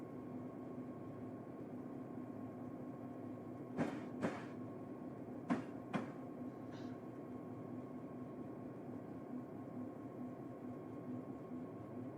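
A simulated train in Train Simulator 2021 rumbles steadily with a low engine drone and hum, joined by a few sharp clanks and squeals of rail cars; no talking.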